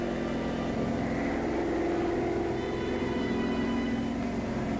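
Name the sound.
German reconnaissance plane flying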